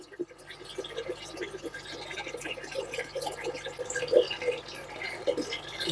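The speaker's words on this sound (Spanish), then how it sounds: "ahora vamos a seguir echándole agua" Water is poured into a container on a magnet test rig, giving a faint, uneven trickle with small splashing and dripping sounds over a quiet background hum.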